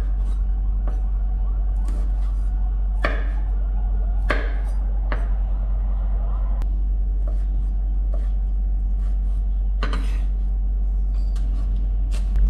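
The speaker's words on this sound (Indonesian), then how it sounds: "Potong cabai rawit." A knife chops bird's eye chilies on a cutting board, giving a few scattered, crisp taps at an irregular pace over a loud, constant low hum.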